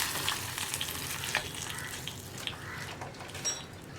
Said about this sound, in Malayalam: ഇത് നന്നായിട്ടൊന്ന് ഇളക്കി മിക്സ് ചെയ്യുക.